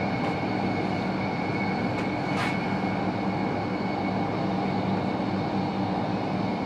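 A train passes close by alongside the Rhine during a cycling tour, a loud, steady rolling rumble with rail noise that holds level for several seconds, no voices.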